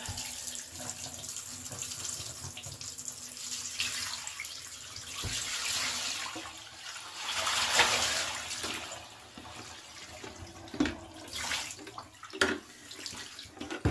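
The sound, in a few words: dirty alpaca fleece wash water draining out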